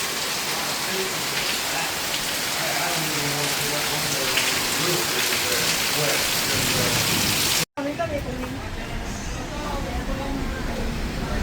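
Heavy rain pours down in a dense, steady roar with low rumbles of thunder, continuous and close, briefly cut off near the end before resuming.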